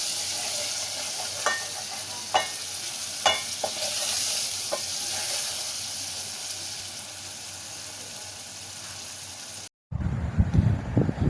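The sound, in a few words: frying spice paste (masala) in a pan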